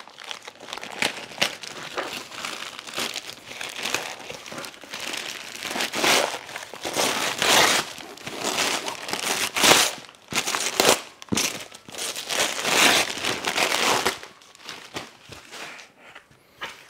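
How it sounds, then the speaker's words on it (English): Reused Christmas wrapping paper crinkles and tears as a mailed parcel is unwrapped up close, a long stretch of loud, irregular rustling and crackling with sharp rips and brief pauses. "Looks like he's rewrapped and reused some Christmas paper there."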